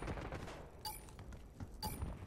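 Gunfire in the video game Call of Duty Black Ops 6, with two sharp gunshots about a second apart over a rumbling battlefield background.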